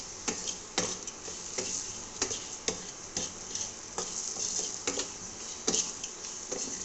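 Spiced papad curry with potato, salt and turmeric stirred in a pan, a spoon scraping in repeated strokes every half second or so over a steady soft sizzle, close and fairly quiet.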